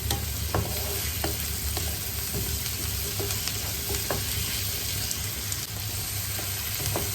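Chopped tomato being stirred into chicken masala frying in a pan: a steady close sizzle with scraping spoon strokes every second or so, no voices.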